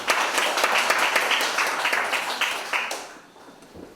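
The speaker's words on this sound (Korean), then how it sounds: "박수로 전해드리겠습니다" Seminar audience applause at a unification policy forum, a brisk round of many hands clapping close by that fades out after about three seconds.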